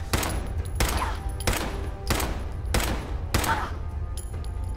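Repeated bursts of gunfire in the video game Fallout 4 Automatron: about six loud, sharp volleys spaced under a second apart over a steady low rumble, with no talking.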